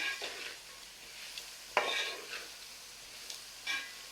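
Bitter gourd being sautéed in a pan for pickle gives soft, faint stirring and scraping with a light sizzle, broken by a few sharp spoon-on-pan clicks.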